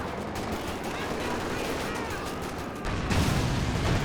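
Artillery barrage in Company of Heroes 2, a continuous rumble of distant shelling and gunfire with a louder burst toward the end, under a commentator's voice.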